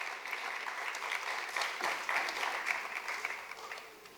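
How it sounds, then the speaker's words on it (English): Audience applause for the teachers and parents at a school's Navratri festival welcome, a moderately quiet, steady wash of clapping heard from a distance, with no talking. "So a very big round of applause for all the acharyas, all the parents of Vidyakshetra."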